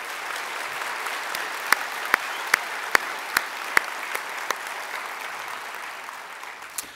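A congress audience gives warm, sustained applause, with dense clapping throughout and a few sharp, louder individual claps cutting through near the front.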